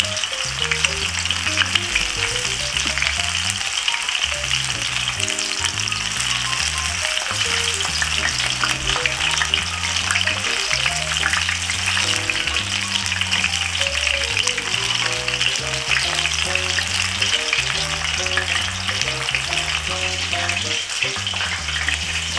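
Shrimp fry in a pan of hot oil with a steady, crackling sizzle, loud and close, continuing unbroken for the whole stretch while a low rhythmic musical backing plays underneath.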